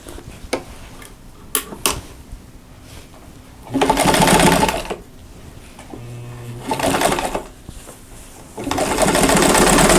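A sewing machine stitches binding on a Christmas quilted mug rug in bursts of rapid, whirring needle chatter, three loud runs separated by pauses filled with faint clicks and handling noises.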